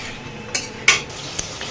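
A spoon scrapes and knocks against a pan while spice masala is stirred into fried potatoes and lentil fritters, a few distinct metallic clinks and scrapes over a low, steady background hiss.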